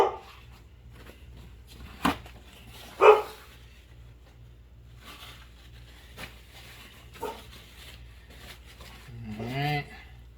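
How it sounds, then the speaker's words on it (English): Dogs bark sporadically in the background of an outdoor backyard grill setting, with a few sharp, separate barks and a whining yelp near the end, mid-distance and moderate over a steady low hum. "Hear my dogs going crazy."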